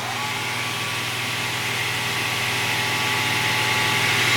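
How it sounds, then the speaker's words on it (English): SCMI SI 16 W sliding table saw with only its main blade spinning, a steady loud whirring drone with a constant motor hum, unchanging throughout, no talk. "Right now you're hearing just the main blade."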